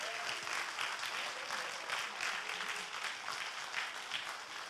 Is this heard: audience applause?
yes